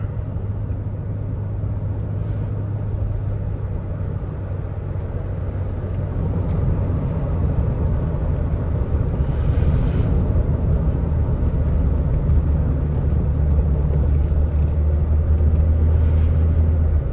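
A 1980 BMW 635 CSi E24 coupe cruises steadily, its engine a constant low drone under road and wind rumble from inside the cabin, rising slightly in loudness partway through, with no talking.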